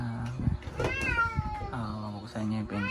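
A pet cat meows over and over in drawn-out, pleading cries, wanting to be let outside. The calls are close and steady and run for a few seconds, with a person's voice mixed in.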